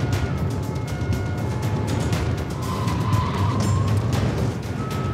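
Gendarmes' police car races at full speed onto the motorway toward Lille in a chase, a loud steady engine roar with road and wind rush and faint tire noise, heard from inside or close by.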